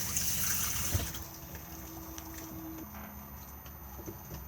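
Water runs steadily from the pull-out shower head in a 2018 Benimar Mileo 323 motorhome, a continuous hiss with a faint tone through the middle, close by and with no talk.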